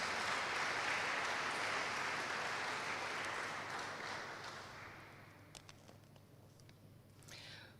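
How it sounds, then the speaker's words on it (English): An audience applauds for CUT Hotel School at a welcoming event, the clapping loud and dense at first, then gradually fading to a few scattered claps and faint movement. "We can give them a round of applause."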